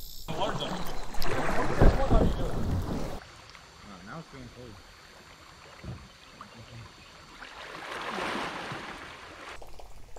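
A kayak paddle dips and splashes on a river during a bass-fishing outing, close and intermittent, with wind noise and water movement around the boat.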